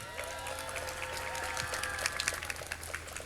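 A rally crowd applauds at a protest gathering for safe, gender-equal schools, steady moderate clapping from many people heard at some distance, swelling slightly toward the end.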